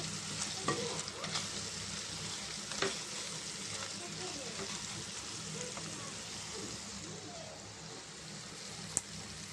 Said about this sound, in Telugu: చికెన్ అయితే బాగా ఫ్రై అయిపోయిందండి